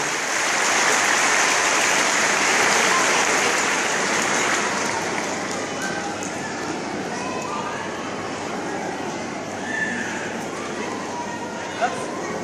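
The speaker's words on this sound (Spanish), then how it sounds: "¡Fuerte el aplauso!" Congregation applauding at a revival church service in Bolivia, a loud, steady wash of many hands clapping that peaks early, eases slightly and carries on with some voices mixed in.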